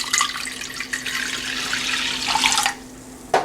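A full cup of water pours into washed tur dal for sambar, a steady splashing gush that runs for nearly three seconds and then stops abruptly.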